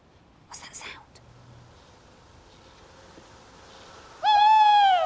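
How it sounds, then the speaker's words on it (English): A tawny owl's song, a drawn-out wavering hoot that rings loud and close near the end of the clip, after a quiet stretch with a brief soft whisper at the start. "That is the song of the tawny owl."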